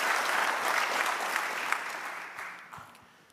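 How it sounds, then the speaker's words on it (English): A conference room full of people claps steadily, the applause loud at first and then gradually thinning and fading out. "let's give a huge round of applause for Andy Ellsworth"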